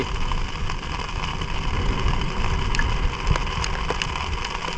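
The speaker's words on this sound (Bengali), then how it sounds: "হঠাৎ করে বৃষ্টি নেমেছে সে কারণে সুন্দরবন বর্ষায় এরকমই হয়" Sudden monsoon rain pours steadily in the Sundarbans with a broad hiss, mixed with a low rumbling engine drone and occasional scattered drips and taps.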